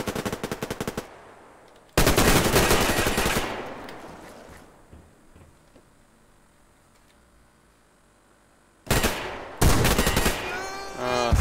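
Full-auto gunfire from a weapon in the online shooter Survarium: a loud rattling burst opens, a second longer burst follows and trails off into quiet, then two more sharp bursts close out, with no talking.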